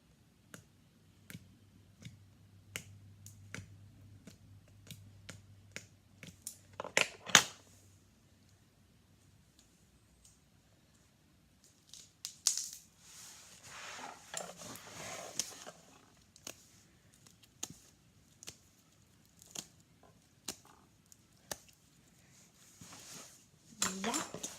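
Slime squelches and clicks wetly as it is squeezed and stretched by hand, soft close sounds in scattered bursts over near-silence, busier in the second half.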